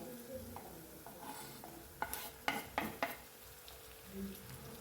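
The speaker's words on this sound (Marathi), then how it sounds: "टमाटा पण छान तेलाव परतून घ्यायचा आहे" Chopped tomato and onion fry in oil in a home kitchen while a spoon stirs them, a soft steady sizzle broken by a cluster of light scraping clicks against the pan midway, all fairly quiet.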